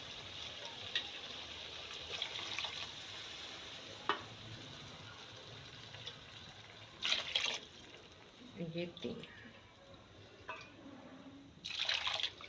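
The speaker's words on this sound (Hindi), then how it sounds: "तो अब हम इसमें पानी ऐड कर देंगे।" Water is poured into a cooking pot for a porridge pulao, giving a few short splashing bursts between quieter kitchen sounds while someone speaks briefly.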